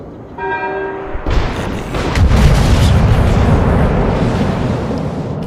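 Naval gun salvo in World of Warships from the Italian battleship Cavour, a heavy booming blast that rolls into a sustained rumble after a brief tone.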